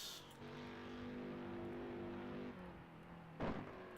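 A Ford GT40 Mark II race car engine holds a steady, somewhat distant note at a race meeting, then drops in pitch, followed by a short louder burst near the end.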